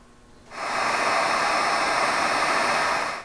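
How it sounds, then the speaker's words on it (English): A heat gun switches on and blows a steady loud hot-air roar at adhesive-lined shrink tubing over a solder connector for a Toyota FJ Cruiser third brake light, beginning abruptly after a brief quiet moment and holding constant. "we'll heat this up with a heat gun, and that will melt this little bit of solder right here"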